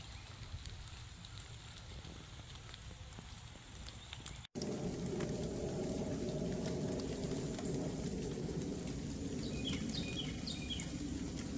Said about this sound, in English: Just as we got back home, it started raining.